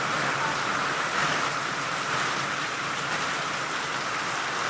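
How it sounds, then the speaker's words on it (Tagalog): Heavy rain falls steadily and evenly, a dense continuous hiss of drops on surfaces close by, with no voices. "Bumabawi ang ulan"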